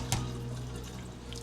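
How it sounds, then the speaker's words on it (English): Running water from a kitchen tap pours steadily over raw chicken pieces being rinsed in a sink, a continuous close splashing wash with a couple of brief louder spatters. "now we're gonna rinse it off real good"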